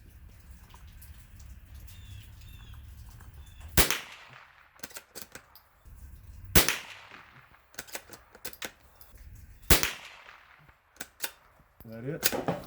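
Ruger American Rimfire rifle with factory iron sights fired at a range: three sharp, loud reports spaced a few seconds apart, with clicks and rattles of handling between shots and a voice speaking in between.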